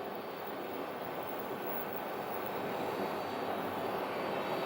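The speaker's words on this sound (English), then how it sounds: "I hear they've started up their APU, which is a good indication that they're getting ready to" Steady, continuous hum of a CRJ regional jet's auxiliary power unit running at an airport gate, a broad even whine held at constant level throughout with no talk over it.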